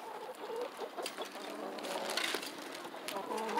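Backyard chickens clucking and murmuring near their coop on a windy day, soft scattered calls over a steady breezy background.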